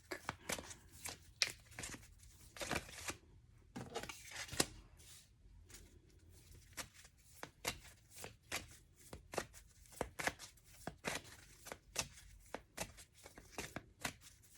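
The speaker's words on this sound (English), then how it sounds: "We'll pull 4 cards from this one." Tarot cards being shuffled and drawn from a deck, a steady run of crisp, close flicks and riffles with short pauses between bursts, no voices.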